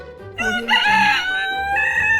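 A rooster crows a loud, close cock-a-doodle-doo in several stretched, strained phrases, rising and holding before cutting off abruptly, with no voices around it.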